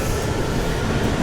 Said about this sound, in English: So this is JR Osaka Station at the moment.